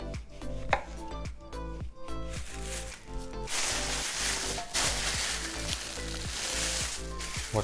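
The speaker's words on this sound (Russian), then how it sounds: "берем апельсин и нарезаем кольца" Knife slicing an orange into rings on a cutting board: a quick run of crisp chops, then a wetter, steadier cutting sound, close and fairly loud.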